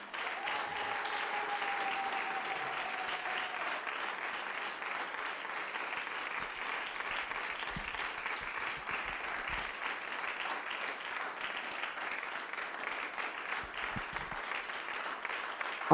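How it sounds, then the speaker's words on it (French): A church congregation breaks into sustained applause during a sermon, a continuous wash of clapping that stays fairly even for about sixteen seconds, heard from a moderate distance. "Acclamons pour le Seigneur."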